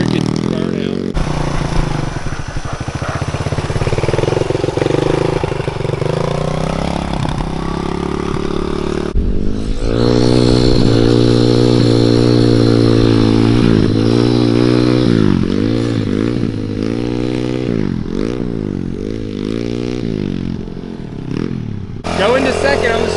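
A Kawasaki KLX110L big bore pit bike revs and pulls through the gears, its small single-cylinder engine rising and falling in pitch as it accelerates, close and loud, with people talking over it.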